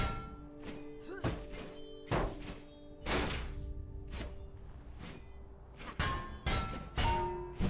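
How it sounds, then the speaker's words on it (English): Shield bash strikes from the video game Aron's Adventure, a string of heavy thunks and thuds landing every second or so over a constant game soundscape. "You can deal a lot of damage by whacking your shield into opponents."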